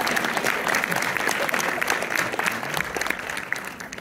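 An audience at a film premiere screening in Orléans claps steadily, a continuous crackle of many hands at moderate volume with faint voices mixed underneath.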